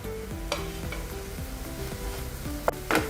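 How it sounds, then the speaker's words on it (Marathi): Vegetables and paneer sautéed in spices in a pan, a steady close sizzle with repeated stirring scrapes and a few sharper clinks of the spatula, no voices. "हे नुसतं मसाल्यांमध्ये असं परतून घ्यायचं"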